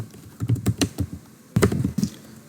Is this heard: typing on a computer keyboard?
yes